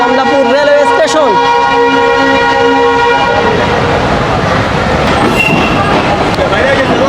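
A commuter train pulls out of Kamalapur railway station in Dhaka, sounding a long loud horn blast before the steady rumble and clatter of the moving carriages takes over. Someone talks over it.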